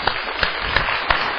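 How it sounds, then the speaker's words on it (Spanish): Brief applause from a church congregation welcoming visitors, a short burst of clapping with a few distinct claps standing out at regular intervals. "Un aplauso."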